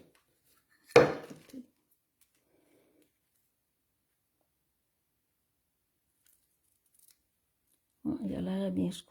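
Scissors make a single sharp snip through ribbon for a paper craft project, followed by a brief rustle, then silence before someone speaks in French.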